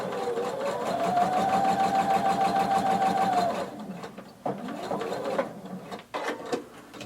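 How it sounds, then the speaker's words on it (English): A sewing machine stitches a folded tank top neckband closed, running as a fast steady whir for a few seconds, then stopping and restarting in shorter bursts with small mechanical clicks between. "we're going to stitch this closed."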